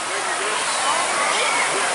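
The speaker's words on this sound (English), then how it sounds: "There's a waterfall over there too." A waterfall at a water park, heard as a steady broadband rush of falling water that holds loud and unbroken throughout, with faint voices and activity blended in the background.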